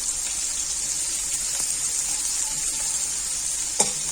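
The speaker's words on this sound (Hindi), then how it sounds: "थोड़ी सी मैंने भिंडी फ्राई की है। अब इसमें प्याज ऐड कर रही हूँ।" Okra and sliced onion sizzle steadily in a hot pan, a dense continuous hiss with a few soft clinks of a spoon and one sharp tap near the end, no voices.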